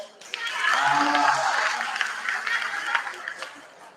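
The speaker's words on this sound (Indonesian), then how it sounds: "tepuk tangan dong" Applause from a crowd at a halal bihalal gathering in West Java, a rising burst of many hands clapping with some voices mixed in, then thinning out.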